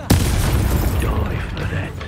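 Spell blast in Hogwarts Legacy combat: a sudden loud booming burst hits at the start, then a dense rumbling roar lingers, with voices shouting over the fight.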